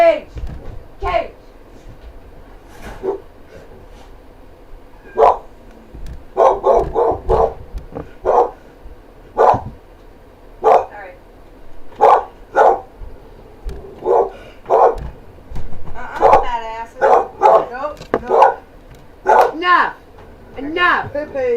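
Indoors, a dog barks and yips in irregular bursts, some single and some in quick runs, fairly close, mixed with people talking and calling out over the noise.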